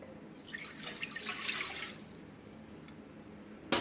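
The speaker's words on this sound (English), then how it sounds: "Okay, here's your 2 cups of water. First you want to add that to your pan." Two cups of water are poured into a regular saucepan, a soft splashing trickle that builds then fades over a few seconds, ending with a sharp clink, quiet and close.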